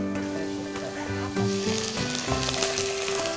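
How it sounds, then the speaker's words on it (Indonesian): Loud sizzling in a pan as water is poured over sautéing garlic and carrots, bubbling and hissing throughout, close up, with no talk. "nah ini sekarang kita mau tambahkan dengan air"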